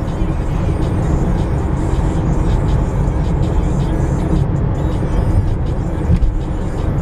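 A car rushes past at high speed on a road, a loud, steady broadband roar of engine and tyre noise filling the whole stretch with no pause.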